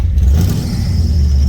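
The engine of a 590-horsepower 1967 Chevy pickup thunders on the move, a loud, steady low rumble with a faint high whine riding over it, and no voices.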